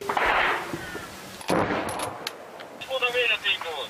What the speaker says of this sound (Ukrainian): стрілецькі канонади по всьому фронту